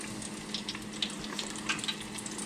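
Stingray pieces frying in a pan give off a steady, close crackling sizzle with scattered sharper pops and no voices.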